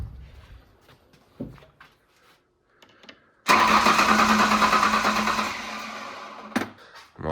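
A budget truck's engine cranks after its battery has been charged overnight, with a few faint clicks and knocks before it. A sudden loud start follows and settles into a steady running roar for about three seconds, then fades, with a sharp knock near the end.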